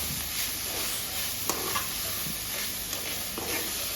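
Mackerel thoran being stirred and fried in a pan, a continuous hissing sizzle with light, irregular spatula scrapes and taps close by.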